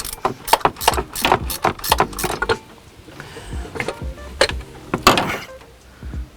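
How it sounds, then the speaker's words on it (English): Ratchet working on the belt tension bolt of a Land Rover Defender 300TDI engine. Close, irregular bursts of rapid clicking and metallic rattling come in clusters with short pauses between them, and no one speaks. "Now I'm going to take the belt tension bolt off."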